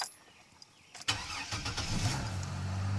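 A 2002 Chevrolet TrailBlazer LTZ with high mileage, after two to three months sitting, gives a few faint clicks, then the starter cranks briefly and the engine catches and settles into a steady idle, close up with no talk.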